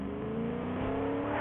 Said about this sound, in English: I get in the truck.